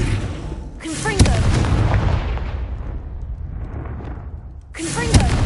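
Confringo spell blasts in the video game Hogwarts Legacy: two loud, booming impacts, one near the start and one near the end, each leaving a long decaying rumble in between, with game effects underneath.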